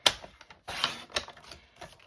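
Cardstock being trimmed with a paper trimmer, giving close, quiet clicks and a brief scraping slide of the blade in a quiet room.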